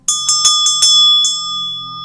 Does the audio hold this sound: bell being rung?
yes